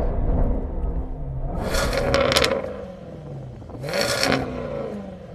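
Jaguar XE SV Project 8 engine and exhaust revving up and down, a rough mechanical rumble with two sharp blips and crackling surges, heard close and fairly loud.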